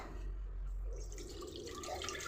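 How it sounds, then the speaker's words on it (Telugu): Water poured into a pot of sun-dried mutton pieces with tomatoes, onions and green chillies on a lit stove, a steady splashing trickle with drips, close and moderately loud, no talking. "వాటర్ వేస్తున్నానండి"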